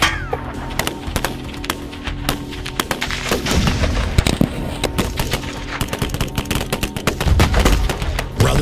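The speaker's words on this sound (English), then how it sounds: "you cannot hide behind an I-beam when there's a 50 cal present" .50 caliber machine gun fire: loud, dense bursts of rapid shots rattle on almost without pause, with sharp reports and heavy booms that echo.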